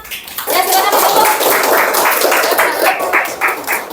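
Children and a teacher clapping together in a classroom, a dense burst of applause that starts abruptly and keeps going evenly, loud and close, with young voices mixed in.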